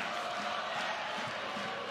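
A basketball arena crowd at a UNCW men's game against Charleston roars in a dense, steady wash of cheering and shouting that fills the whole stretch.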